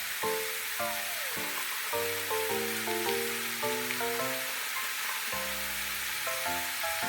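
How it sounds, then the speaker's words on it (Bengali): Beans and carrots sizzling in a frying pan with peas added, a steady broadband hiss running throughout beneath prominent background music. "বিনস আর গাজরটা কিছুক্ষণ ভেজে নিয়েছি। এবার এতে মটরশুঁটিগুলো দিয়ে দেব।"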